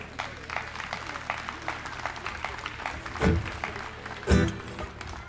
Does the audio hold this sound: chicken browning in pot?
no